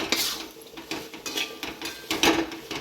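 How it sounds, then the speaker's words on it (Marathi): Spices being stirred and sautéed in a pot for a village-style chicken curry cooked on a wood-fired stove, with irregular metallic scrapes and clinks of a spoon against the pot over a low sizzle, close and moderately loud. "सगळे मसाले चांगले परतून द्यायचे"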